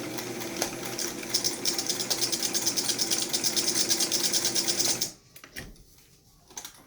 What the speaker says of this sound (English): So you're just going to sew the nose.